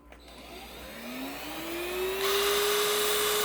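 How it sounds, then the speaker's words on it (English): A portable vacuum cleaner motor whines up to speed, its pitch rising steadily before settling into a loud, constant drone. "there we have a working vacuum cleaner again"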